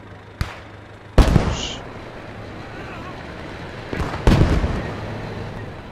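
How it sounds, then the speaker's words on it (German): Sharp gunshot cracks sound during a street battle in the Post Scriptum video game, including a sniper's shot. Several loud reports come at irregular intervals, some followed by brief rumbling echoes, with muffled voices in the background. "er hat über die Straße geschossen, war ein Scharfschütze"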